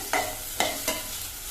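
Tamarind sautéed in a pan for brinjal thuvayal, heard as a steady low sizzle broken by three scraping strokes of a spoon against the pan, close and clear with no talk.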